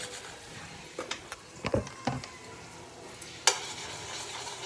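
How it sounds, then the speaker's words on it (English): Thick hoisin sauce is stirred into hot oil in a pan for chicken and shrimp fried rice: a faint low sizzle underneath a few soft scraping stirs and a sharp clack of a utensil, with no one talking. "the hoisin sauce is really thick, and I'm just kind of stirring it with the oil to liquefy it."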